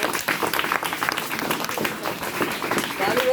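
Audience clapping at a school event honoring Gandhi, a dense, continuous patter of many hands in a room, steady and fairly loud, with voices mixed in.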